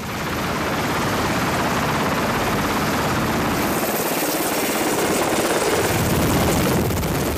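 Military helicopter on a naval ship's deck, loud and close: a continuous dense roar of rotor and turbine holds steady throughout, shifting slightly in tone partway through.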